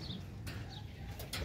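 Pet pigeons in a home loft make soft, low cooing with a few brief bursts of wing flapping, faint and close, with no voices.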